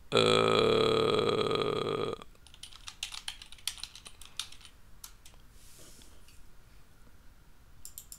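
Keys clatter on a computer keyboard in quick irregular bursts of close, light clicks after a loud harsh opening sound, with a quiet pause before the final few taps.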